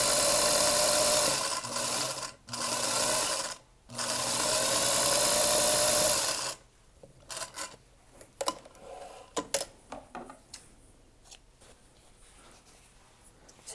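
A sewing machine stitches curved fabric edges together under the presser foot in two long, steady runs with a short pause between them, followed by scattered quieter clicks and handling noises.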